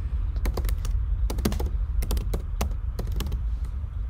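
Rapid keyboard typing on a computer as a folder name is entered, irregular clusters of close, crisp key clicks over a steady low background hum.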